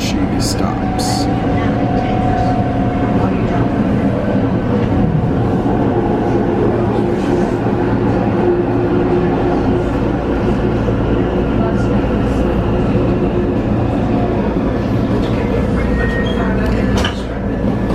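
An RTD G Line commuter rail train rumbles steadily from inside the car, with continuous loud rolling and rattling, faint clicks and an onboard announcement voice over it.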